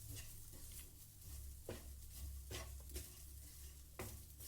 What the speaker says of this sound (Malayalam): ഇനി ഈ പൊടികൾ ഒരിത്തിരി ഫ്ലെയിം ഒന്ന് കൂട്ടി വെച്ചിട്ട് തന്നെ വേണമെങ്കിൽ പെട്ടെന്നൊന്ന് ചൂടാക്കി എടുക്കുക.